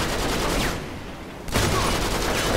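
Dense rapid gunfire in the video game Uncharted 3: Drake's Deception, loud continuous bursts that briefly drop to a quieter lull before resuming at full intensity.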